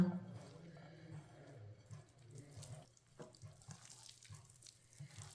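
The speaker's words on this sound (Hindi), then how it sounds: "अब इसमें थोड़ा सा पानी डाल लेंगे" Water is poured a little at a time into potato pakora batter in a kitchen, a soft trickling splash with brief pauses, fairly quiet and close.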